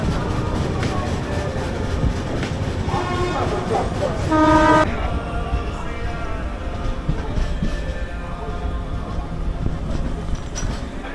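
A fast passenger train runs on a 130 km/h rated line toward Ayodhya, a loud steady rumble of wheels and carriages with a short horn toot partway through, and talking over the noise.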